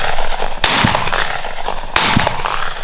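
Two loud, sharp shotgun blasts about a second apart during a dove hunt outdoors, close by, each with a brief rolling tail over a steady background of wind and ambient noise.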